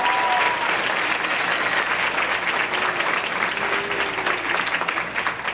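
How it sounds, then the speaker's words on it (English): An audience at an eighth grade recognition night applauds the event organizers with sustained, even clapping from a large crowd that carries steadily to the end. "Let's give them a round of applause."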